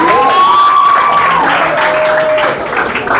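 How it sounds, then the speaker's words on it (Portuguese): A classroom audience of students claps and cheers for a classmate, a dense burst of applause with a whistle-like tone riding over it, fading slightly toward the end. "Salve de palmas também para ele"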